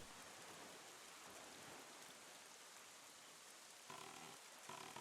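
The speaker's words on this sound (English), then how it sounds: "it's raining again" Steady rain pours in Zelda: The Wind Waker HD, a soft even hiss filling the whole stretch at low level, with a slightly brighter patter near the end.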